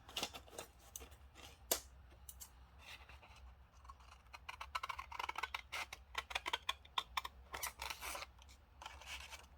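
Scissors trim paper while making an envelope-style pocket, a run of close, crisp snipping cuts, sparse at first and then coming in quicker clustered bursts, with no talk over them.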